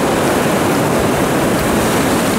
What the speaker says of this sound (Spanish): No hemos avanzado mucho por la orilla de esta hermosa playa.